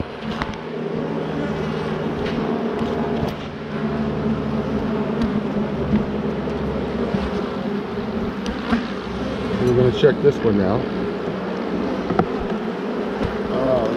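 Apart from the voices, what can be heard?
honeybees buzzing around hive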